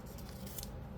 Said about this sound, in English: I'm just going to take and cut a straight edge on my washi tape